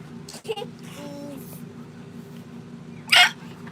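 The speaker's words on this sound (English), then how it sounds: "there goes Mommy's hiccups again" A woman hiccups once, sharp and loud, after a stretch of quiet room noise with faint background murmur and small clicks.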